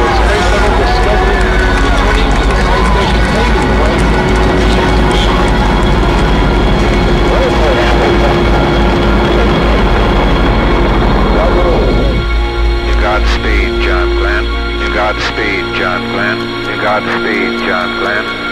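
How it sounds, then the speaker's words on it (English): The Space Shuttle Discovery lifts off, a loud, dense rocket roar with a crowd murmuring under it. The roar cuts off abruptly partway through, leaving a thinner, wavering sound over a steady hum. "boost ignition, and liftoff of the Space Shuttle Discovery."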